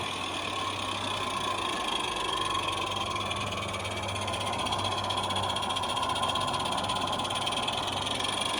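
A Regner Lumber Jack live-steam model locomotive engine climbs a 2% grade, giving a steady, continuous chuffing hiss with a low hum underneath, close and unbroken, with no voices.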